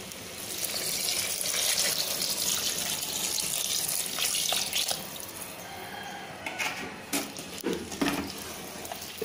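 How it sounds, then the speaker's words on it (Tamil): Water is poured into a pot of soya chunk (meal maker) biryani, a close, steady gushing stream that later breaks into intermittent splashes and trickles. "நம்ம தண்ணி சேர்த்துடலாம்."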